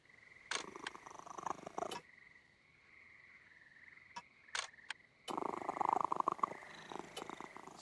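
A cat in the video game Penny Arcade Adventures gives off a rough, rumbling purr-like sound in two long bursts with a few short clicks between, fairly close over a faint steady tone, with no talk.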